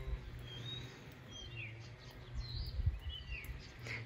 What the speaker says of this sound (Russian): И я надеюсь, что вам слышно птицы.